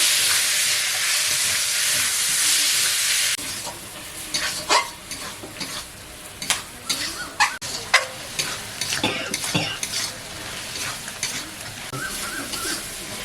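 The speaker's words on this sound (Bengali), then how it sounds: "মুরগির মাংসটা ভালো করে কষে নিয়েছি" Chicken pieces with chili powder, turmeric and salt are stir-fried in a pan, starting with a loud, steady sizzle and then turning into repeated scraping and stirring strokes against the cookware.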